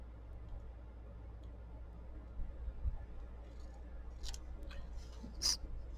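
Scissors trim a few quick snips, faint and close, with a brief clustered cutting sound near the end over a low steady background hum.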